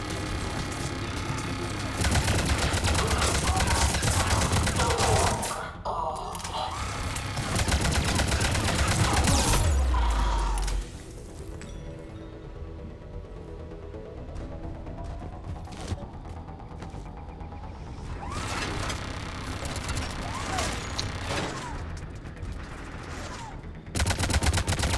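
Automated turrets firing in Mass Effect Legendary Edition, loud sustained bursts of rapid gunfire layered with continuous combat noise across the stretch.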